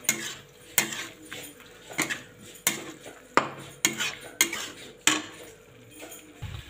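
Mashed boiled potatoes mixed in a metal pot, with a spoon scraping and knocking against the pot in about nine sharp, evenly spaced strokes, close by and with no voices.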